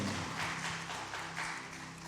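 A church congregation at a Korean Sunday worship service claps together in praise, a soft, steady wash of many hands heard at a distance with no talking over it.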